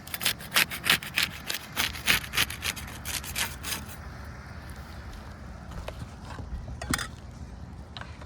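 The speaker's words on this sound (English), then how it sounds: "We'll use the putty knife to unseal the top shingle." A putty knife works under a roof shingle to break its seal, giving a rapid run of loud scraping, rubbing strokes that fade into sparse scrapes and taps.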